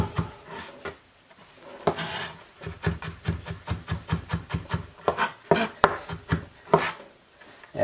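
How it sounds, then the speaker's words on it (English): A kitchen knife mincing thinly cut vegetables on a cutting board for cream of celery soup, with rapid, irregular chopping taps in quick bursts, close and fairly loud, with brief pauses between runs and no talking. "mince it up"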